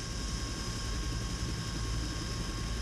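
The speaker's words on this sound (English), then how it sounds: "I do love the sound of a Huey." Steady rotor and turbine drone of an Agusta-Bell AB 212 Huey helicopter in a flight simulator game, a constant low rumble with a whining tone above it, continuous and unchanging throughout, with no talking.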